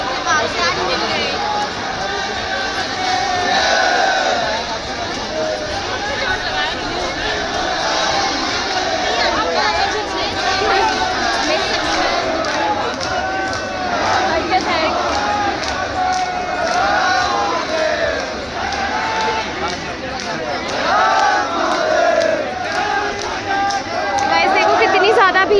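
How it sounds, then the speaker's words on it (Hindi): A dense festival crowd at the Nainital Dol Yatra fills the space with continuous babble and chatter from all sides, loud and unbroken throughout, with occasional nearer voices rising out of the hubbub. "कितनी ज़्यादा भीड़ है देखो।"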